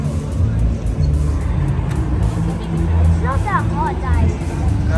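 Road traffic at the entrance to the Calgary Stampede grounds: a steady rumble of cars moving past nearby under constant crowd chatter, with people talking close by.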